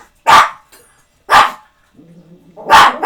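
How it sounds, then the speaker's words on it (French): Household dogs bark in three loud, sharp bursts spaced roughly a second apart, close by, with a faint low hum in the quiet gaps. "mes chiens ils font le bordel"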